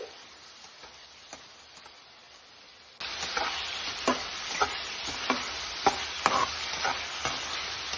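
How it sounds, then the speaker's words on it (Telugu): A sudden loud sizzle of finely chopped ripe tomatoes hitting hot tempering oil, continuing steadily with occasional clicks and scrapes of stirring. "బాగా పండిన టమాటాలు అయితే ఇవి కూడా సన్నగా కట్ చేసుకొని పోపులో వేసుకొని వేయించాలి"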